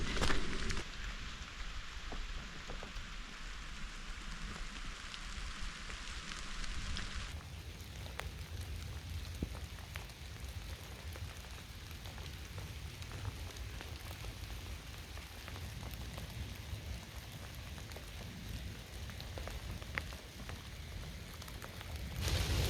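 A cold, steady rain falls in a forest, a dense close patter on leaves and ground that runs continuously without pause and with no voices.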